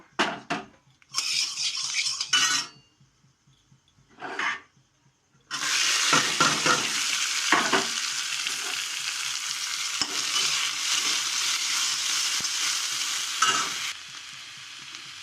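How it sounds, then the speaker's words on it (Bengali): Ginger, garlic, onion, tomato and green chilli sautéed in oil in a wok: a few short clatters and scrapes, then a loud continuous sizzle with intermittent stirring strokes that runs for most of the clip. "কড়াইতে তেল দিলাম, দিয়ে আমি এখানে আদা, রসুন, পেঁয়াজ, টমেটো, কাঁচা লঙ্কা, ধনেপাতা আছে, আমি কষিয়ে নেব।"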